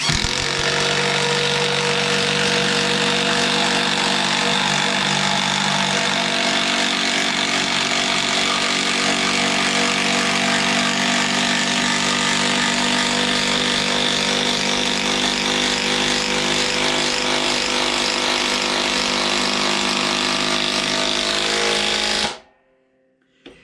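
A HART impact driver fitted with a 5/16 driver bit drives a fastener home, running as one loud, continuous grinding whir with steady rapid hammering for about twenty-two seconds before stopping abruptly.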